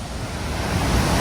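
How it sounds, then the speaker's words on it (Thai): A dam release at Ubol Ratana Dam sends water roaring out in a loud, dense, continuous rush. The noise is close and fills the clip with no breaks and no voices. "นี่ครับคือการระบายน้ำนะครับไอ โอ้ไหลแห้งนะครับไหลแห้งมากเลยเสียงดังมากเลย"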